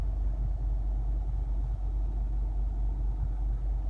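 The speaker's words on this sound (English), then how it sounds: "Engine's running." A Honda CR-V 2.2 i-DTEC diesel idling, a low, steady rumble with a faint rhythmic chug throughout, heard from nearby without any talking.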